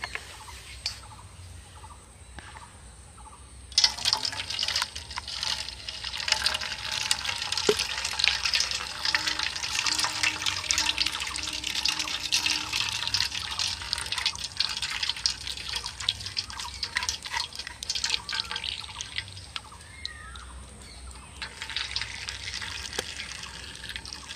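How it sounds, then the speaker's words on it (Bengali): Raw potato paste is strained into a bowl, making a steady wet trickling and dripping rush of liquid that runs for about twenty seconds after a quiet start. "গামলিটার মধ্যে আলুর সেই মিশ্রণটা যেটা আমি ছেঁকে বের করেছি।"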